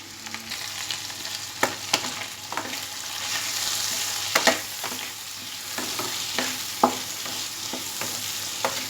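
Cut okra with salt and turmeric stir-fries in a pan over high gas, giving a continuous loud sizzle punctuated by repeated scraping and tapping of the stirring spoon, with no voices.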